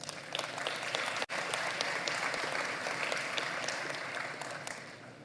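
Sustained, dense applause from a large audience at an election results announcement, steady and loud throughout with a momentary break near the start, then gradually easing toward the end.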